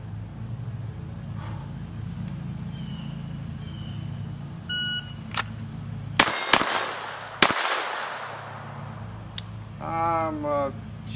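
A Glock 44 .22LR pistol fires a few sharp, fairly loud shots in quick succession midway through a draw and shoot drill, with a short electronic beep just before and faint talk near the end.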